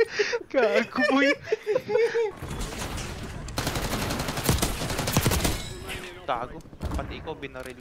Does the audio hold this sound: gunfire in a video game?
yes